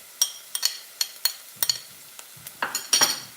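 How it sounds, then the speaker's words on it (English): A spoon clinks and scrapes repeatedly against a pan as garlic is stirred into frying onions for tadka dhal, with quick irregular metallic taps and a faint sizzle underneath. "going in with the garlic"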